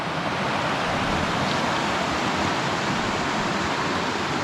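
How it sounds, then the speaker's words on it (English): The Quinault River rushes steadily near Enchanted Valley, a broad, unbroken roar of flowing water that stays loud and constant throughout, with no voices. "The Quinault River is coming this way."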